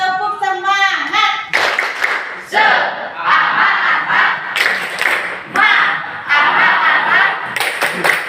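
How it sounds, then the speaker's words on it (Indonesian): A group of people performs a rhythmic spirit clap chant, with bursts of shouted voices and clapping in loud, close waves. "Tepuk semangat."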